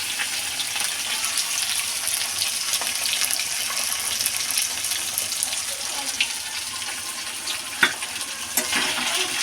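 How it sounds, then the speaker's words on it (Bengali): Hilsa fish pieces fry lightly in hot oil in a pan, making a soft, continuous hiss with a few sharp spits and clicks near the end. "বেশি কড়া করে ভাজবো না বন্ধুরা, হালকা ভাজবো,"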